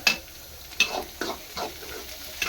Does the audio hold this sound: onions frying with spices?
yes